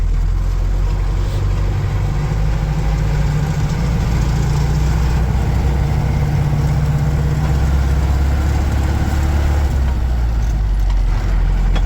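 A 120 hp diesel engine pulls a farm vehicle loaded with about 6.5 tonnes through a field during harvest, in gear, giving a loud, steady, continuous drone with no voices.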